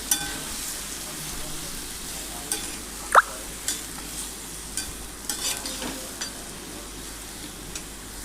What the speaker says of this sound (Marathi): हे छान आपल्याला फ्राय करून घ्यायचं आहे।